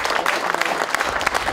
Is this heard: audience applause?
yes